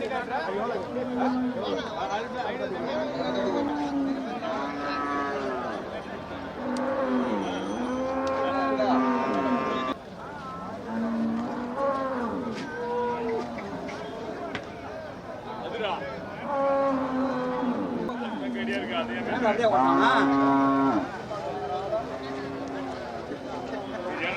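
Cattle low and moo repeatedly at a busy Tamil village cattle market, the calls near and overlapping with steady crowd chatter and people talking throughout.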